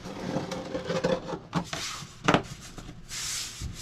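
Sander working a mahogany cabinet piece for a wooden boat's galley, a few short rough bursts of abrasive rubbing and scraping with brief pauses, close and moderately loud.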